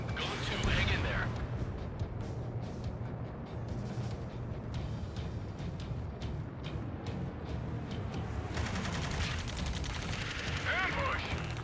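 Rapid gunfire and heavy explosions echo through an Ace Combat 7 video game battle, steady bursts of shots under a constant rumble of engines, with a voice speaking briefly over the noise.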